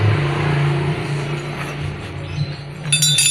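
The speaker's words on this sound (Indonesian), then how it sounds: "Dan kita longgari juga nih baut satu ini" A size 8 wrench works a front brake pad bolt on a Honda PCX 160 scooter, a close, low mechanical grinding with faint clinks and a short bright metallic rattle at the end.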